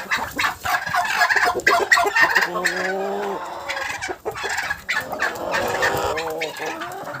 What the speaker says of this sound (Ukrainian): Це Так індик демонструє своїм танцем бажання спарюватися.